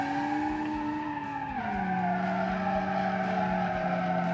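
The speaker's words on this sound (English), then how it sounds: "So before we end the video, let's do some donuts and then end it all." A car spins donuts in BeamNG, its engine droning steadily with a pitch drop partway through, while tires squeal and skid continuously, loud and close, with no talk.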